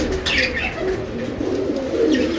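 A prize-winning racing pigeon, a female kept by a Punjabi village fancier, coos in a low continuous murmur close by, with soft chirps layered over a steady background hum and no talk.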